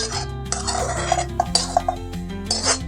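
Prawns being tipped into a bowl with turmeric and salt, clattering and clinking against the bowl in a few quick knocks and scrapes.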